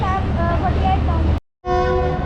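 A loud, sustained train horn blares close by, cutting out briefly before sounding again, on a Green Line train journey from Lahore to Rawalpindi.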